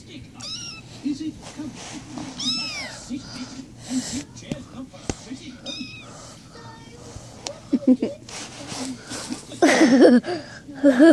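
Several small kittens meow in high, thin cries, scattered and close, with a louder burst of squealing near the end, while people talk softly over them.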